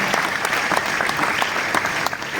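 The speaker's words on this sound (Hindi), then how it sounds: "नितिन भाई के लिए भी एक बार जोरदार तालियों का हम अभिवादन करेंगे।" An audience at a BAPS Swaminarayan temple gathering in Jodhpur applauds the temple's designer, Nitin Bhai Sompura, with steady, dense clapping that carries on evenly throughout.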